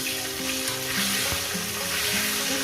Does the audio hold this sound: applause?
no